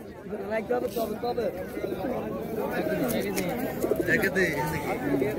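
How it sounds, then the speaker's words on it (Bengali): Hatbaji pigeons at a busy pigeon market coo in low, repeated rolling calls up close, under steady chatter and people talking nearby. "ওরে বাহ, হাতবাজি হাতবাজি হাতবাজি হাতবাজি পায়রা।"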